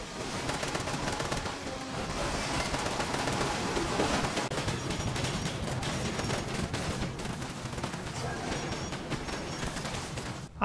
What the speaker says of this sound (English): I spent all of my 10mm ammo shooting the Scorch Beast